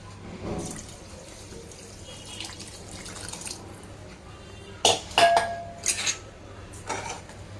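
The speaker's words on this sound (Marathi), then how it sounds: "आता याच्यामध्ये पाणी टाकते" Water poured into a pressure cooker for spinach rice, heard as a soft quiet splash followed by several sharp metallic clanks of the pot and utensils in a kitchen.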